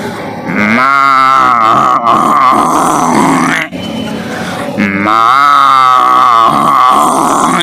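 A voice imitates a buffalo with two long, loud, drawn-out lowing bellows, close and forceful, separated by a short breath.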